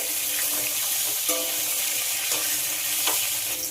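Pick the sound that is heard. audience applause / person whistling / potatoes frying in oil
potatoes frying in oil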